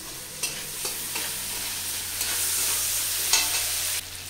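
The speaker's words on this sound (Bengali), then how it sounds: "পরিমাণ মতন লবণ দিয়ে পেঁয়াজটা একটু লাল লাল করে ভেজে নেব।" Onions fry with salt and turmeric in a pan for a hilsa fish head and taro greens dish, a steady close sizzle broken by occasional stirring scrapes, with no talking.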